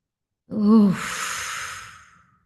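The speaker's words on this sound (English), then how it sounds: "Letting our bodies release as we breathe out." A single deep, slow exhale during a meditation, beginning with a voiced sigh and trailing off into a soft airy breath that fades over about a second and a half, close and alone.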